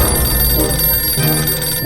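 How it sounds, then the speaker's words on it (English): A telephone rings inside the post-apocalyptic survival video game 60 Seconds, a steady continuous bell-like ring lasting the whole moment and sitting loud and close with a low hum beneath it. "There's a phone ringing."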